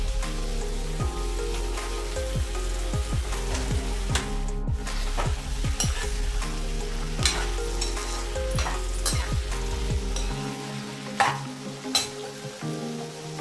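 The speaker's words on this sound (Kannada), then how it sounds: "ಈರುಳ್ಳಿ ಇಷ್ಟು ಬೆಂದ ನಂತರ ನಾನು ಟೊಮೆಟೊ ಹಾಕ್ತಾ ಇದ್ದೀನಿ" Chopped medium tomatoes tipped into softened onions in a hot pan, a steady loud sizzle with repeated scraping stirs of a spoon, close by with no talking.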